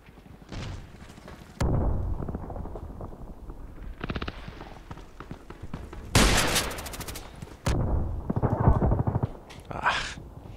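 KelTec KSG pump-action shotgun blasts in the online shooter Contract Wars, several loud booming shots spaced a few seconds apart with mechanical clatter and background game noise between them.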